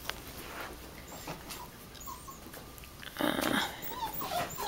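A litter of puppies about five and a half weeks old whimpers and yelps faintly in short, scattered bursts, growing busier and louder toward the end.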